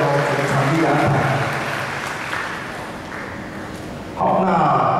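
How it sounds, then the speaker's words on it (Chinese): An audience at a high school wind band concert claps in a steady, fairly loud wash of applause that fades, then swells again near the end, with a host's voice speaking over it. "我们这边掌声谢谢王主任哦"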